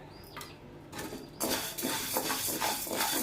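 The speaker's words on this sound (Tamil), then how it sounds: "அந்த உளுந்தை வறுத்துக்கலாம்." Urad dal dry-roasting in a pan as the base for idli podi: a light, dense rattling and scraping of dry lentils stirred against metal, steady and close after a few quieter clinks at the start.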